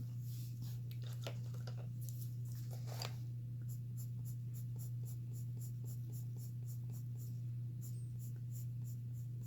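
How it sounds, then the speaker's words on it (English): A dull colored pencil scratches across toothy paper in short, dry strokes, busier at first and then lighter and sparser, with a steady low electrical hum underneath. "I'm using a dull pencil, and I really shouldn't, I can almost feel the tooth on the paper wearing down"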